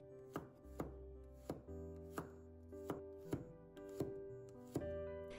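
Garlic being chopped into small pieces with a knife on a cutting board, about eight steady, crisp knocks at a slow even rhythm, quiet and close, with no talking.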